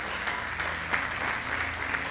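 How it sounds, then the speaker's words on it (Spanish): A church congregation applauds, producing a brief, moderately faint wash of steady clapping over a low background hum. "Denle un aplauso fuerte al Señor"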